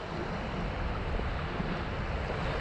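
Strong wind blows across a beach at Somerton during land-based fishing, a loud continuous roar buffeting the microphone with low rumbling gusts and no voices.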